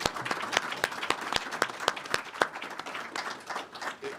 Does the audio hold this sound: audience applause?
yes